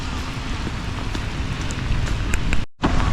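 Steady rain falling outdoors in Canada makes a dense, even hiss of drops on surfaces, loud and continuous, with a brief dropout near the end and no talking.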